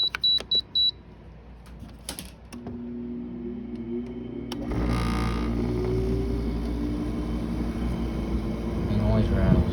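A GE dehumidifier clicks a few times, then starts up, its motor settling into a steady hum with a rattle and rising slightly in loudness as it keeps running.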